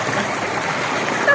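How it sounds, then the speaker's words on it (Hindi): Water splashing and gurgling as it is poured over a person, a steady rush throughout with a brief louder splash near the end, plus some voice mixed in. "पानी मेरे ऊपर डालती है"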